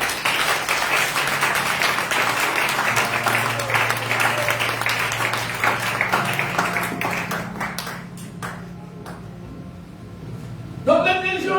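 A church congregation claps and cheers in worship, a dense wash of applause lasting several seconds before thinning out, followed by a voice speaking near the end.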